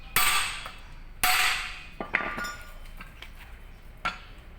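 Several sharp metallic hammer strikes ring out on trailer truck brake parts during a brake lining job, with pauses between them, followed by lighter clinks, close and fairly loud with no talking.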